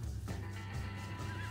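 A horse in the Red Dead Redemption video game gives a single loud, close neigh, its whinny rising and wavering for about a second and a half with no talk over it.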